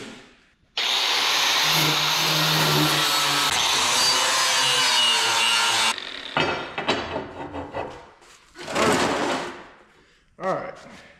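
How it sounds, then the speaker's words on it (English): Grinder fitted with a flat wheel cleaning up metal parts being prepared for a mini excavator thumb, a loud steady roar for several seconds, then shorter bursts of grinding as the wheel is reapplied. "So I'm gonna clean these up with a grinder, a flat wheel,"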